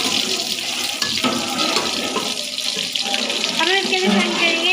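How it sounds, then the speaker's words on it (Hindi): Jaggery water poured into a pot of lightly fried dry fruits while cooking sweet jaggery rice, a steady gushing, splashing pour that runs continuously close by, with faint low background sounds. "अब हम इसके लिए शामिल करेंगे हमारा दूसरा गुड़ वाला पानी।"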